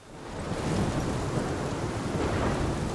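Thunderstorm in the game Life is Strange, a steady heavy roar of rain and rumbling thunder that swells in over the first half second and stays loud and dense throughout.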